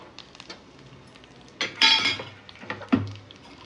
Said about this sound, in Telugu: బాదం కొంచెం ఫ్రై అయ్యాక క్యాష్యూ యాడ్ చేసుకోవాలి.